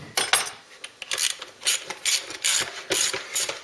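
A socket ratchet clicks rapidly in uneven bursts, close and loud, as bolts are worked on a Ford Cortina MK3 engine, with metallic ratcheting and tool handling in between.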